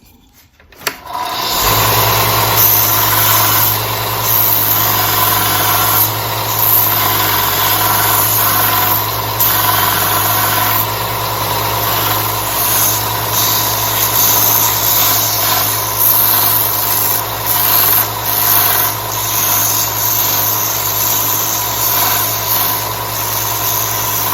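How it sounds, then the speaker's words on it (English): A belt sander grinds away at wood for a planter, starting abruptly after a quiet moment and then running as a loud, steady motor drone with a raspy abrasive hiss for a long stretch, no talking. "I just go up to the belt sander and just kind of nibble away until I get close to that line"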